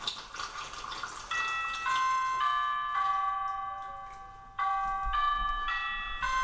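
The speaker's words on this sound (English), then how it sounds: "pour it down the ornamental funnel until you hear a chiming sound." Bright, clear chime tones ring from a Tree Nanny 2.0 Christmas tree watering funnel as water fills it, stepping through several sustained notes in a gentle rising pattern, with a faint splash of pouring underneath.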